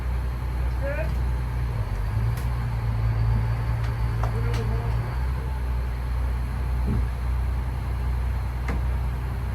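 Yacht engines idle in a steady low, broad rumble that carries on throughout at moderate loudness, with faint creaks and small clanks over it.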